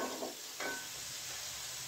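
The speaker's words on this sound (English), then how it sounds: "get my flour all cooked through." Flour cooks for French onion soup in a pan, giving a soft, steady sizzle and hiss with a couple of brief stirring scrapes near the start, fairly quiet and without talk.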